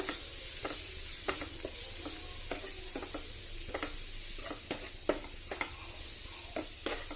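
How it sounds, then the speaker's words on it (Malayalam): Curry leaves and tomato frying in a pan, a quiet steady sizzle broken by irregular sharp pops and spatters, with occasional stirring taps. "കറിവേപ്പില ഇട്ട് കൊടുക്കാം തക്കാളി ഇട്ട് കൊടുക്കാം കേട്ടോ ഇത് നന്നായിട്ടൊന്ന് മൂപ്പിച്ചെടുക്കാം"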